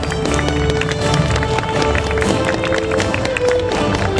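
A large outdoor festival crowd claps and cheers for junior YOSAKOI Soran dance team representatives taking the stage, a dense, steady wash of applause with faint voices mixed in.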